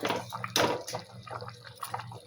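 Fried tilapia pieces dropped into a simmering kohlrabi fish gravy, giving soft splashes and wet bubbling, dripping sounds close by with one sharper splat early on.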